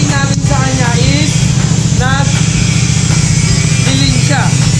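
A Honda Airblade 150 scooter with a remapped stock ECU and full exhaust system revs at full throttle, a loud steady engine drone running continuously throughout while people talk over it.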